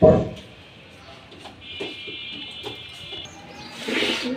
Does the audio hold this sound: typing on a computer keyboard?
no